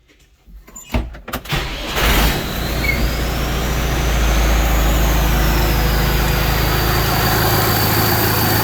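A riding tractor engine with a newly replaced safety switch cranks and catches within about two seconds, then settles into a steady, loud idle rumble that holds to the end with no talking.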